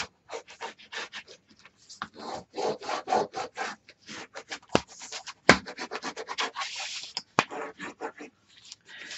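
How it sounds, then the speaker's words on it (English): Adhered paper burnished onto a mini album base page by hand, a series of close, quick scraping rubs in irregular bursts with a few sharper taps between. "burnish it, and make sure you've got real good adhesion"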